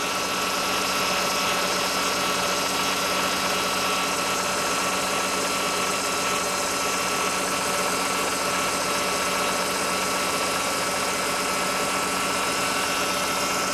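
A Mercedes Sprinter van engine runs at idle with a noisy power steering pump low on fluid, a constant dense whine and hum close by, steady for the whole stretch with no voices.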